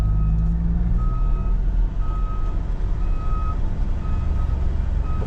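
A truck reverses on a farm where road trucks and a hoe are working, its backup alarm beeping in evenly spaced tones over a loud, rumbling diesel engine.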